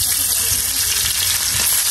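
Fish frying in a pan with oil, a loud, dense, continuous sizzle close up, steady over the whole stretch with a faint stir or two.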